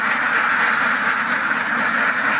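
A dense, continuous chorus of Khaki Campbell ducks quacking on a duck farm, loud and steady, as if a large flock is gathered close together.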